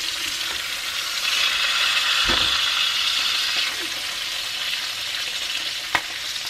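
Rainbow trout pan-searing in a hot pan, a steady bright sizzle and crackle that swells slightly as the fish is turned over, with a small clack near the end and no talking.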